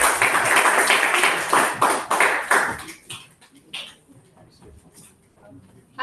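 Round of applause at a Toastmasters club meeting, clapping from a small gathering for a visiting member of the Thika club; it is dense for about three seconds, then thins into scattered claps and faint room noise.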